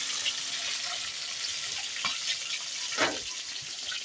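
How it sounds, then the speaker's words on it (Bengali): Eggs coated with turmeric and salt fry in hot oil, giving a steady close sizzle with a couple of brief louder crackling bursts partway through. "ডিমগুলো আগে হলুদ লবণ দিয়ে দিয়েছি, তো তেলে ছেড়ে দিলাম"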